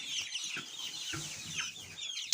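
Backyard chickens, young chicks recently moved to a new pen, cluck and peep in bright repeated calls on a sunny day. The high chattering overlaps continuously at moderate loudness, with one deeper cluck in the middle.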